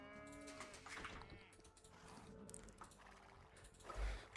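Cattle lowing in Age of Empires II, a drawn-out moo near the start over busy game ambience, with another fainter animal call later.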